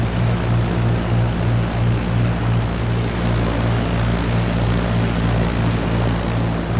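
Propeller airplane in Microsoft Flight Simulator on landing approach at 65 knots with 10 degrees of flaps and idle power, a steady loud droning engine hum with a pulsing low beat that persists unbroken.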